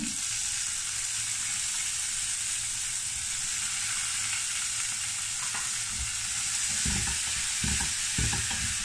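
Ginger and spring onion fry with ground meat in a pan, giving a constant bright sizzle, with a few scraping stirs and knocks near the end and no talking.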